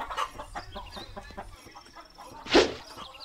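A chicken in The Return of the King video game gives short clucks amid scattered game sound effects, with a sharper burst near the end.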